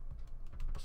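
Quick run of soft computer keyboard keystrokes, several taps in close succession, near and fairly quiet, with no talking.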